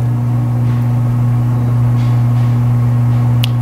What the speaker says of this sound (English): It's my garage door, if you're wondering what that noise is.